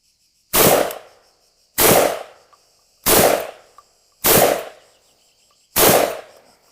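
Five loud, sharp blasts from a Molot VEPR 12 shotgun firing 52-gram 12-gauge Magnum shells, evenly spaced about a second apart, each with a short ringing decay and no talk.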